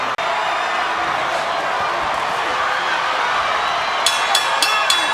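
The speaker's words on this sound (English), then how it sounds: "For the crowd, you can hear the buzz." A boxing arena crowd at a Pacquiao–Bradley fight buzzes steadily in the background under a commentator's talk, with a few faint claps near the end.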